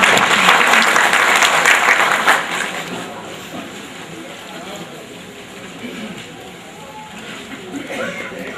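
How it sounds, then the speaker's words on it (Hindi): Loud crowd applause at a political rally, thick and energetic for the first couple of seconds before fading to a lower murmur of scattered claps, with a voice speaking over the tail. "प्रदेश की तरफ से इनके लिए जोरदार तालियों की गड़गड़ाहट के साथ"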